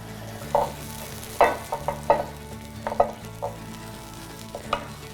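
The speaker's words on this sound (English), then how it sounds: "Now I just like to scrape all the brown bits" A utensil scrapes browned bits across the bottom of a pan of sizzling vegan sauce, a series of sharp, close scrapes and stirs over a constant sizzle, with no talking.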